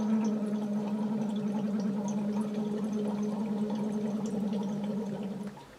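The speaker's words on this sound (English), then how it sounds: "try not to make too much bubbling and make the sound forte" Steady low bubbling of air blown through water in a tube during Lax Vox voice therapy, continuous and fairly loud for several seconds before tapering off at the end.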